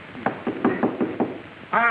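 Knocking on a door, several separate raps spread across two seconds at a moderate level, followed by the start of a voice.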